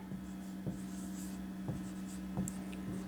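A line is written on a board during an exam-preparation lesson, heard as a few faint, separate scratchy strokes over a steady low electrical hum, with no talking.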